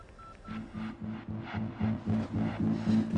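A rapid run of short electronic beeps, about a dozen in quick succession, like a telephone being dialed.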